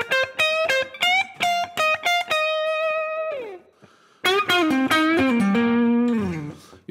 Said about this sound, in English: you can hear the neck pickup's a little bit woollier, doesn't cut through quite as well